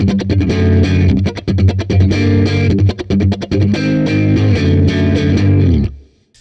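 Fast, tightly picked strumming on a distorted electric guitar tuned to drop C, loud and dense with rapid choppy bursts and effects, playing continuously before cutting off abruptly near the end.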